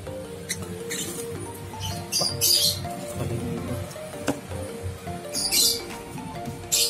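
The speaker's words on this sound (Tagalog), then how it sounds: "May mga ibon pa pala rito." Small birds in a breeding cage chirp in short, sharp bursts close by, with soft pattering and rustling between the calls.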